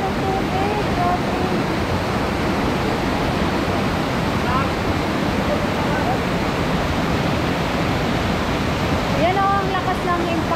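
Water crashing down a waterfall at a resort pool, a loud steady roar of broadband rushing noise close by, with faint voices talking over it.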